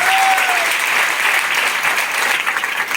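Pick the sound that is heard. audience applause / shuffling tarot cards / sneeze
audience applause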